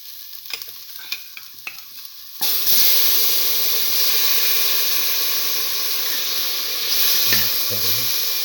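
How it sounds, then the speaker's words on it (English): Cooked beef pieces drop into a hot pot for a split chickpea stew with a few light clinks, then a loud, steady sizzle and hiss takes over and swells again near the end. "Now put in the cooked beef piece."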